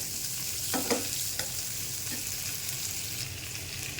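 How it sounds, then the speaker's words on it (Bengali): Chopped onion fries in hot oil in a frying pan on a stove: a steady close sizzle with a few brief stirring scrapes, no talking. "পেঁয়াজটা ভাজা দিয়ে দেবো।"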